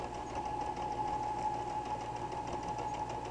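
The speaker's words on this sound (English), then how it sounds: "I've back stitched to reinforce the stitches so that they don't tear out" Sewing machine back stitching through a quilted jelly roll heart hotpad, a steady close mechanical whir with a constant hum and rapid needle rhythm running alone throughout.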